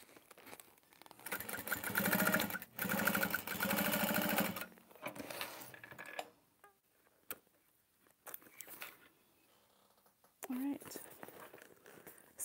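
A sewing machine stitches a test bag in two close bursts of rapid steady whirring, followed by quieter handling noises and brief talk.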